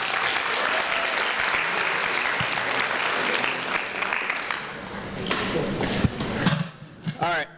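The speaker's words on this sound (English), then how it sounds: "So please give me a round of applause for Ryan Walsh." An audience applauds for speaker Ryan Walsh at a leadership talk, dense sustained clapping from a room full of people that thins out and fades near the end.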